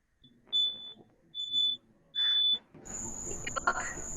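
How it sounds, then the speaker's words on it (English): A smoke detector goes off during a live theatre stage performance, giving three loud, shrill beeps in a regular pattern, followed by a burst of broad noise and commotion. "The smoke detector goes off."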